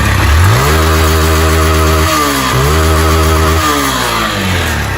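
Motorcycle engine, apparently a Yamaha Ténéré with an engine noise problem, revved hard several times near the exhaust catalyst, pitch climbing, dropping and rising again in loud sustained surges.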